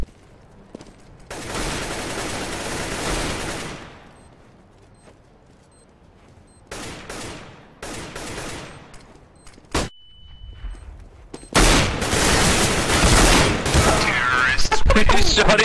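Several loud, sharp SSG 08 sniper rifle shots ring out in a CS:GO match, separated by quieter stretches, with a bright metallic bolt cycle and other gunfire nearby.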